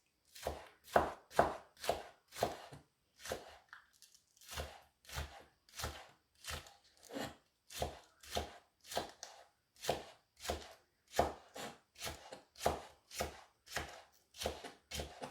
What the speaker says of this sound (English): Since we're cutting vegetables, so we're going to slice this into small slices.